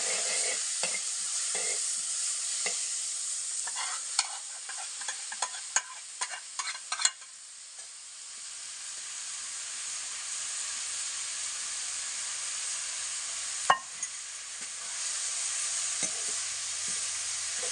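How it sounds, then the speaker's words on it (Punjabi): Chopped onions dropped into hot oil already crackling with cumin seeds, a steady close sizzle with clusters of sharp pops and stirring scrapes early on, settling into a softer even hiss with a few later clatters. "ਹੁਣ ਜਿਹੜੇ ਪਿਆਜ਼ ਆਪਾਂ ਨੇ ਚੋਪਰ ਕਰਕੇ ਰੱਖੇ ਤੇ ਇਹਨੂੰ ਵਿੱਚ ਪਾ ਲੈਂਦੇ"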